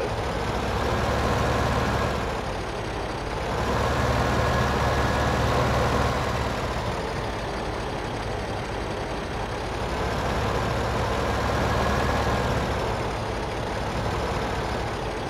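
Trucks in the Farming Simulator 15 video game, a loud continuous engine drone that slowly swells and eases as the trucks rev, idle and manoeuvre, steady and close, with no talk.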